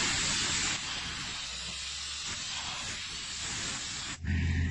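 Compressed air blows dry sand out of the holes in a car body during a sandblasting restoration, a loud, steady, close hiss that runs without a break before a brief shift and a thump near the end.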